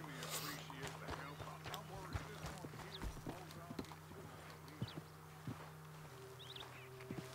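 Horse hooves clip-clop at a walking pace in Red Dead Redemption 2, light irregular knocks under a voice and a low steady hum.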